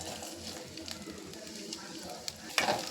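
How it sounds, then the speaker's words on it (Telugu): Onion and curry leaves frying in oil in a kadai for goat brain fry, a close, steady sizzle that swells into a louder crackling burst near the end. "బాండల్లో ఆయిల్ వేసుకొని తర్వాత ఆనియన్ కరింపాకు వేసుకోవాలి."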